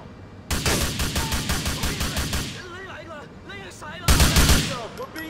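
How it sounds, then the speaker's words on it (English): Rapid automatic gunfire bursts loud and close in GTA IV, a sustained volley of rhythmic shots, a pause filled with whistling chatter and voices, then another heavy burst. "We're being shot at!"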